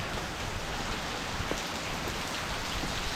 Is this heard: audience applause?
no